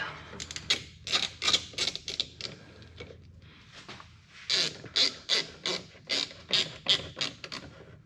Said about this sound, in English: this is an 8mm, so I get it started with the ratchet